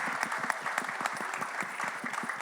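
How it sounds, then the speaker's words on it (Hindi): A crowd at a Bollywood song launch event applauds steadily, a dense and sustained clapping that fills the room at even loudness throughout. "सो बस उनके लिए ज़ोरदार एक बार तालियां हो जाएं."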